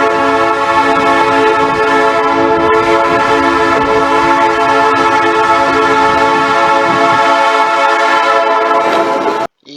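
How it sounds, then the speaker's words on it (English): Nathan P3 locomotive air horn blasting one loud, sustained multi-tone chord for nearly ten seconds with rail rumble underneath, then stopping abruptly. "one of my other favorite horns that I like is the Nathan P3"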